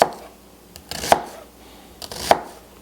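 Knife dicing onions on a cutting board: three sharp chopping strikes spaced roughly a second apart, close and fairly loud against a quiet background, with no talking.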